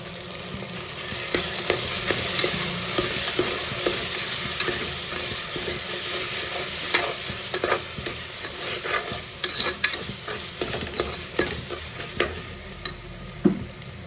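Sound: sautéing tomatoes with salt and turmeric for chicken kurma

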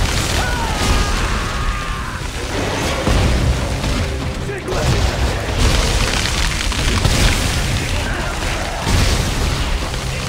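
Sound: grenade explosion in Dead Space 3 video game

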